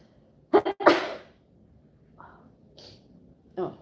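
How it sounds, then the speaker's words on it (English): A single person's sneeze bursts out close and loud, followed by a short sniff and faint breathy sounds, with a brief voiced noise at the end. "I gotta sneeze one sec."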